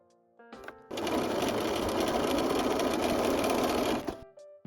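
A sewing machine top stitches the upper edge of a tote bag pocket in one steady, loud run of about three seconds, with brief quiet handling before and after.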